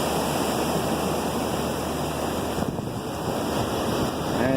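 Ocean waves breaking on the beach at Sebastian Inlet, Florida, a steady broad roar of surf with wind rushing across the microphone, continuous and fairly loud, no voices.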